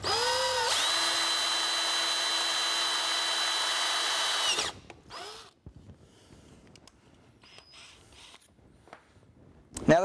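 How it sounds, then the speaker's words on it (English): A power drill whines loudly and steadily for several seconds boring a hole into the intake manifold of a Ford Super Duty 7.3 Powerstroke, then stops, leaving quiet handling clicks and a brief second burst. "you want to take a drill bit and drill the hole right into the intake manifold"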